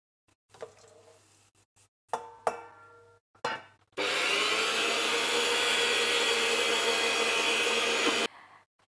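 An electric mixer beats sugar and butter for grain biscuit batter, with a few short bursts followed by a loud, steady whir lasting several seconds before cutting off.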